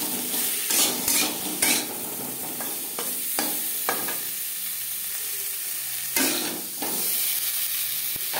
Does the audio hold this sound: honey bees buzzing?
no